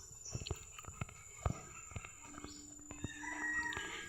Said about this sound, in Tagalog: Sana okay lang sa inyo may mga manok.